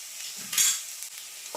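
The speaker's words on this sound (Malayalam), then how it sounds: "ഉപ്പും കൂടെ ചേർത്ത ശേഷം നന്നായിട്ട് എല്ലാം കൂടെ വഴറ്റിയെടുക്കാം" A chicken mixture with salt is sautéed in a pan, giving a soft, close sizzle with stirring scrapes and one brief brighter swell of frying hiss.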